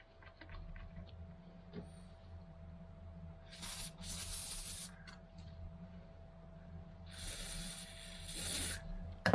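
Two short hissing washer-fluid spray bursts into a cup on a 1973 Range Rover Classic sound close by, separated by a pause, over a quiet steady electrical hum.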